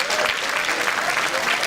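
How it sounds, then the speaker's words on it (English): An audience at a retro gaming expo collectibles auction claps steadily, a dense continuous round of applause from a crowd filling the room. "let's get a round of applause for Chris Tang"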